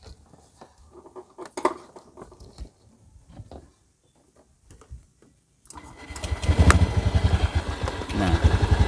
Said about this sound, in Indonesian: teman-teman bisa dengar ya, motornya langsung hidup